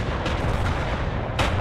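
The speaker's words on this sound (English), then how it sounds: "is that mortars hitting us? Sounds like it." Mortar and artillery fire in the World War II strategy game Call to Arms: Gates of Hell, a dense continuous barrage of heavy low booms with a couple of sharper blasts standing out, loud and close with no talk.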